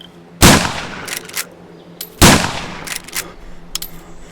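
Two loud, sharp gunshots from Survive The Nights, spaced about two seconds apart, each followed by metallic clinks and mechanical handling sounds of the weapon.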